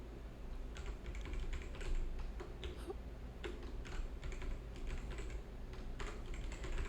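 Quiet computer keyboard typing in short irregular bursts of clicks, the keys pressed in quick runs with brief pauses while a folder name is entered, no voices present.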